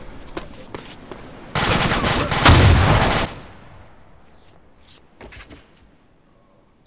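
Automatic gunfire in a ShackTac adversarial military shooter game: a loud, sustained burst of roughly two seconds, framed by scattered faint clicks and movement sounds before and after.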